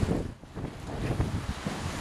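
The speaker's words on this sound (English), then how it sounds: "It's still extremely windy." Strong wind on the Biloxi waterfront buffeting the microphone, a loud, uneven low roar with gusty surges and a brief lull, mixed with a wash of surf.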